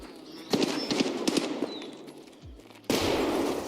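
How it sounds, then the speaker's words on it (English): Gunfire and a grenade blast in Escape from Tarkov: a cluster of sharp cracking shots, then a sudden loud explosion that lingers as a broad noisy roar. "You almost killed me with that nade."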